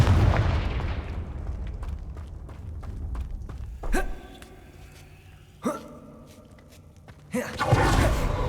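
Confringo, the fiery blast spell in Hogwarts Legacy, goes off as several sharp bursts spaced a couple of seconds apart, each a crack with a ringing tail, over low rumbling game ambience.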